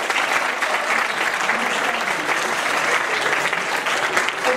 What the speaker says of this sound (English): I think my assistant deserves a big round of applause.